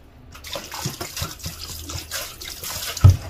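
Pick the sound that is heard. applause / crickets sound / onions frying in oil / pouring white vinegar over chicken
pouring white vinegar over chicken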